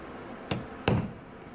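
Two sharp metallic taps, a lighter one followed by a firmer strike, as a punch is hammered into metal to mark a drilling spot, close by with quiet around them.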